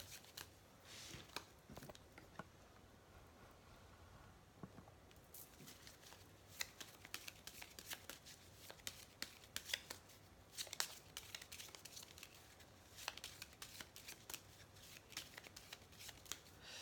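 Oracle Lumière cards are shuffled softly and close-up in quick, repeated riffles and flicks, faint and papery, with no talking.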